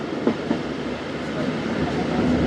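Rumbling rail noise with faint rhythmic clacks of the Pak Express passenger train rolling into Sahiwal station after rain, steady and fairly loud throughout.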